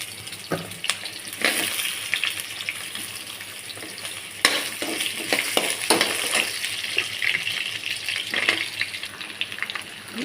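Potato pieces fry in a pan with onions in a home kitchen, giving a steady sizzle with intermittent scraping and clinking as they are stirred, close and clear with no talking.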